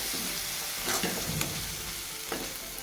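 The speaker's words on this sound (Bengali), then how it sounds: "এবার মশলাটাকে একটু কষিয়ে নেব" Spice masala of green chilli paste and chilli powder sizzling and being stirred in a pan for katla fish kebab, a steady close frying hiss with a few scraping stirs and no talk.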